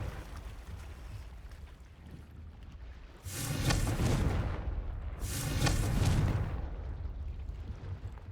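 Two booming fire blasts from the Confringo explosive spell in Hogwarts Legacy, each a loud, broad roar swelling for about a second and a half and then fading, set against a low ambient rumble, with no talking.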